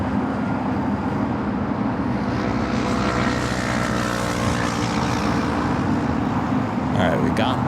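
Jet airliners at LAX airport at night produce a loud, continuous engine roar that swells and holds for several seconds, with a voice faintly audible beneath it.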